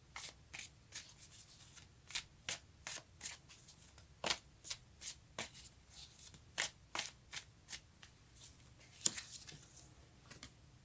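Tarot cards being shuffled and drawn for a reading, a quiet run of crisp, rapid card flicks and riffles in uneven bursts, close and alone in a hushed room.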